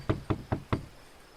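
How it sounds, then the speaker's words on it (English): Four evenly spaced knocks on a front door, close and crisp, each a sharp thud with a short ring, then quiet. "I'll just knock on the front door."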